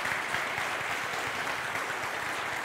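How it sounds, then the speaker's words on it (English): An audience at the Frazier Museum gives magicians Mac King and Lance Burton a round of applause, a thick, continuous clapping that stays at an even, moderate level with no voices over it. "could you stand so we could give you a round of applause?"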